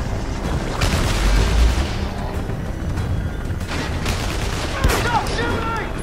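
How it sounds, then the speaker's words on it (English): Rapid bursts of gunfire in the video game Beyond: Two Souls crackle loudly and continuously, with heavy booming shots and dense automatic fire. "Stop shooting!"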